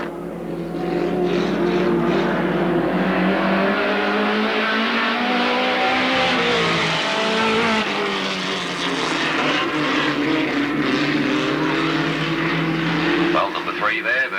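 Hot rod cars roar away at the start of the afternoon's final race at Alwalton, a loud, dense blur of engines revving and droning together, with a commentator's voice running over the noise.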